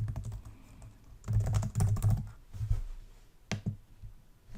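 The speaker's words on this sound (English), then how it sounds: "type in the proper Python code that you want" Python code being typed on a computer keyboard, a quick run of keystroke clicks in bursts with short pauses, close and fairly loud, no voices.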